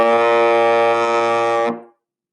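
A single loud, sustained trombone note blown with strong, controlled support, rich and steady for about a second and a half before stopping cleanly, with a short ring-out afterward.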